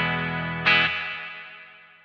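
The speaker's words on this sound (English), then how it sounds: "we jump over to our reverb, and it's based on a Blackface Fender" Electric guitar chord through an Analog Alien Rumble Seat pedal set to its Blackface Fender-style reverb at half mix, struck once with a brief bright attack, then a long shimmering tail fading smoothly, alone with no talk.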